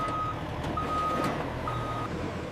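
A truck backs up to a regional warehouse dock to unload pallets of home fans. A reversing alarm beeps three times in a slow, steady rhythm over a low engine rumble.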